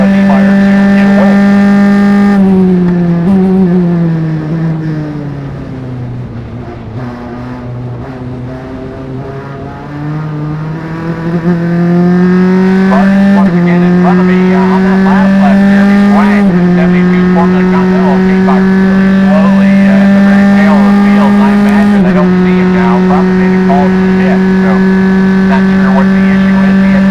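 Race cars in an SCCA single-seater class race at Mid-Ohio power up the straightaway, a loud sustained engine drone with shifting pitch that dips and climbs again, under a constant hum.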